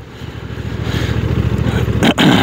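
A Honda NT1100 DCT motorcycle engine while riding, a steady loud rumbling drone with a rising pulse and rushing wind, heard close with no talk.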